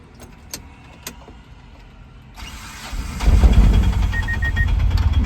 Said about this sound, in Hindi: गाड़ी हम स्टार्ट करके देखते हैं